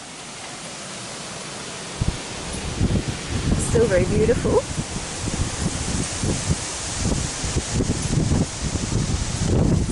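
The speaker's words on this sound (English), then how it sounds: "now we have really strong winds" Strong wind roars steadily, buffeting the microphone in gusty bursts, while a person speaks briefly over it.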